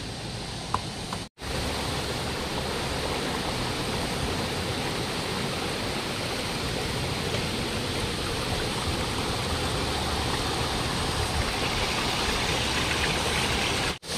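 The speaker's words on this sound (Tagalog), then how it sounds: "Ito ang Hingog River." The Hingog River, a large river, rushes in a constant broadband roar of flowing water, steady and close, with a brief cut near the start.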